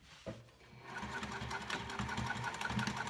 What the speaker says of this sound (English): I'm just going to sew that gap that I skipped over before